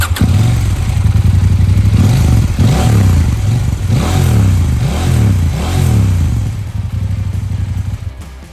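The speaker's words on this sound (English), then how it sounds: "the Acra obviously sounds better, it's meatier, it's bassier" A Husqvarna Norden 901 motorcycle fitted with an Akrapovic exhaust idles loud and close, then revs in a series of five or six sharp blips with deep, bassy exhaust note before settling back to a lumpy idle.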